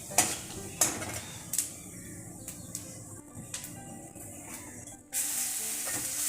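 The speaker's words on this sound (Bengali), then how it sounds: "জিরে ফোড়ন দিয়েছি।" Cumin seeds tempering in hot oil with cardamom and whole spices for a moong dal with katla fish head, crackling and sizzling steadily in a pan with a few sharp utensil clinks and a louder hiss near the end.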